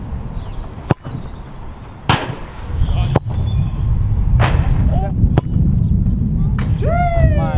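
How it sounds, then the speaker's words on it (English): Fake Jabulani footballs being struck in a shooting test on a pitch, with several sharp, loud kick thuds spaced a second or so apart over steady outdoor wind and ambient noise. "I took some shots into the top left,"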